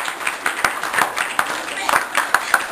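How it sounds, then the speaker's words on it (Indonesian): At an Islamic religious gathering, an audience claps in a loose rhythmic pattern of distinct, fairly close claps that repeat steadily throughout. "Beri banyak tepukan."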